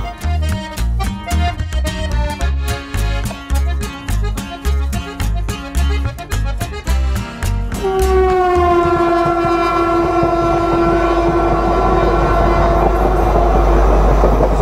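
A local train on the Howrah to Digha line near Panskura rattles loudly with rhythmic wheel clacks for several seconds, then a long, steady horn blares close by over the running rumble until the end.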